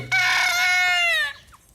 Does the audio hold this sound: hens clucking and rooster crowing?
yes